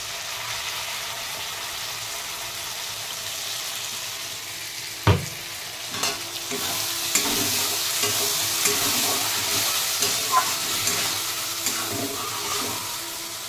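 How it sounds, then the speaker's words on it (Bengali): Spices stirred and sautéed in a pan while cooking ghugni, with a steady frying sizzle throughout, a sharp clank of a utensil against the pan, then softer scraping stir strokes over the continuous hiss. "এখন মশলা দিয়ে একটু কষাবো।"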